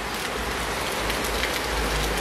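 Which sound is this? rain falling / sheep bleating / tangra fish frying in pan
rain falling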